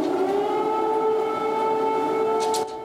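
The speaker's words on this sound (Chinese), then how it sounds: "乌克兰首都基辅礼拜日半暝个响起空袭警报" An air raid siren wails over Kyiv at night, a loud sustained steady tone that holds for nearly three seconds before dropping off abruptly, with no speech.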